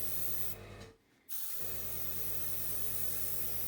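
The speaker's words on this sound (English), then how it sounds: "Always spray on a separate piece of paper, just to make sure it's the right colour." A single close spray burst of diluted hydrangea colouring onto a separate piece of paper, a sharp hiss lasting under a second that cuts briefly through a steady low background hum.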